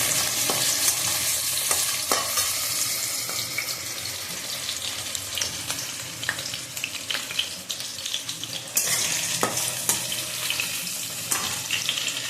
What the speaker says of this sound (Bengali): হালকা বেগুনটা ভাজা যখন হয়ে যাবে তখন আমি আস্তে আস্তে সব সবজিগুলো দিতে থাকবো।